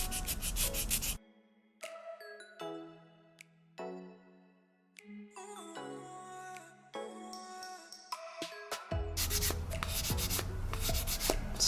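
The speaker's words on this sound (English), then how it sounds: "gently going over the raised detail and sanding the paint off" Brisk, scratchy strokes of a sanding stick taking paint off a 1/8 scale Mustang model rasp close up at the start and again near the end, with quieter tonal sounds ringing in between.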